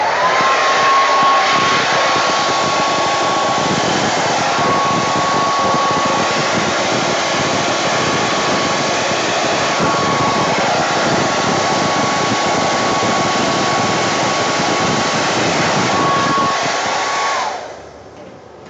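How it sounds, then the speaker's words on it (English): A handheld blower roars loud and steady close by over an acrylic paint pour, with a faint whine riding on top, running continuously before cutting off and spinning down near the end. "I think I'll use the blower a bit first"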